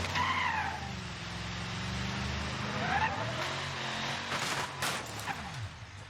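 A car in the BeamNG driving game runs through a custom-built tube track, its engine hum rising and falling with whining pitch sweeps, tire squeals and a few sharp knocks, moderately loud with no talking.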